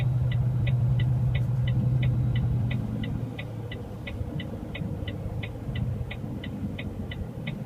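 A lorry rolls slowly onto a ferry, a low engine rumble that settles into a quieter idle while a steady, evenly spaced beeping ticks over it; no one speaks.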